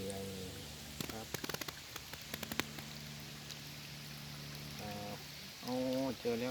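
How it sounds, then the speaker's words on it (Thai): Gently flowing water in a stream at a waterfall in Sakon Nakhon, a faint, steady trickling wash interrupted by brief sharp taps and short bursts of voice-like tones. "บรรยากาศครับมีน้ำไหลแบบเอื่อยๆครับ"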